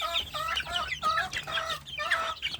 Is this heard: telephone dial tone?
no